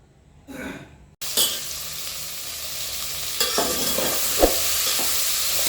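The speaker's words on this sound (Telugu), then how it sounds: "చూడండి ఇట్లా మంచిగా జస్ట్ ఫ్రై చేసుకోవాలి" Vegetable khichdi frying in a pan, a brief muffled rustle and then a loud, continuous sizzle broken by scraping stirring strokes and an occasional clack, close up with no talk.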